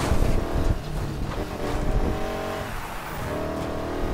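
A car races around a circuit in Need for Speed Heat, its engine droning steadily and loudly throughout with shifting pitch as it accelerates, no talk over it.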